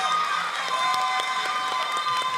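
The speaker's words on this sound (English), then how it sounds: "Give a round of applause" An audience at a gospel singing contest applauds and cheers for a contestant, a dense steady wash of clapping and crowd noise at full loudness with no talk over it.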